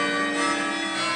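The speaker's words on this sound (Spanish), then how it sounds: "Hay que esperar la campanada." A church bell chimes on New Year's Eve, one sustained, ringing tone with long harmonic overtones holding steady and decaying slowly, heard alone with no voices.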